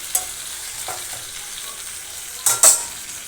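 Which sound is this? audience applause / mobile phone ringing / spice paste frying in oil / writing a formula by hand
spice paste frying in oil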